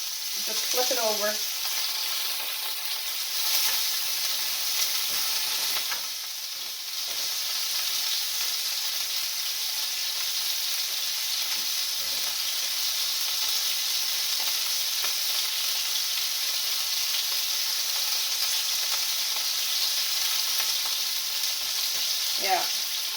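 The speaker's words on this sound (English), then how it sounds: "So I'm just going to brown these a bit." Meat browns in two frying pans with a steady, close sizzling hiss that runs throughout, with a few faint utensil sounds and only brief talk.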